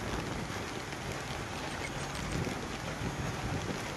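Steady rain falls over a village in a dense, constant hiss that fills the whole stretch evenly, with no voices and no breaks.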